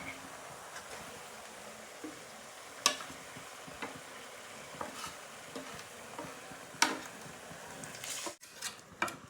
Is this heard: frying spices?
yes